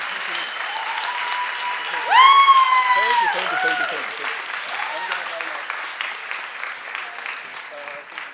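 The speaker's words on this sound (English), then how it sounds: "keep on clapping" Audience applause at a science slam during Berlin Science Week, a loud, continuous crowd clapping throughout, with a voice speaking over it as the clapping swells and then gradually eases.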